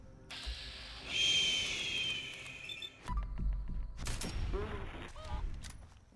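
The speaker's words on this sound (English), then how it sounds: "It's a rad chicken." A radiated chicken in the Fallout 4 Far Harbor video game squawks and honks amid game sound effects and bursts of noise.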